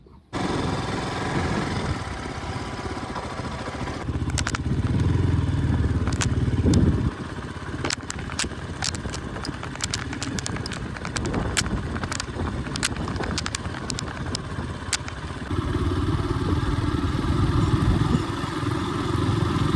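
A motorcycle engine runs steadily nearby, rising in the middle and again toward the end, with clattering and wind buffeting over it.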